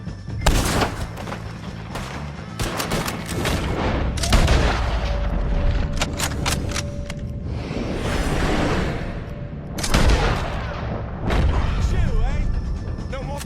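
Gunfire and explosions in the video game Red Dead Redemption 2, a loud, dense mix of repeated shots, booms and whooshes with voices shouting over the chaotic battle.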